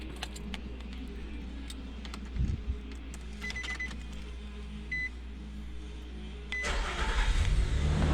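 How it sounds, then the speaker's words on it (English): A second-generation Nissan Frontier pickup engine turns over and catches after an oil change, a brief starter whir followed by a low, steady idle rumble that swells near the end. "and now we will go start the engine up."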